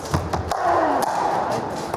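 Pickleball shots during a professional league rally, with a few quick hollow paddle taps and thuds, close, over the hum of an indoor court crowd.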